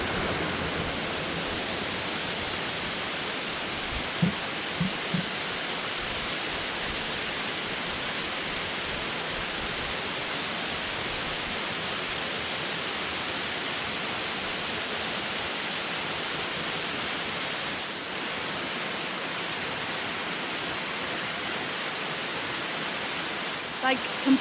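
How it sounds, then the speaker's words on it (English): Steady broadband rush of a waterfall at Laurel Falls in the Great Smoky Mountains, continuous and full, holding an even level throughout with no talk over it. "I'm gonna take a moment and enjoy this waterfall"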